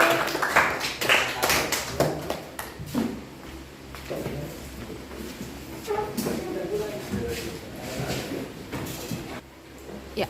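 A classroom group claps for the mangrove presentation, a burst of applause that is loud at first and then thins into scattered claps, with chatter and speech mixed in.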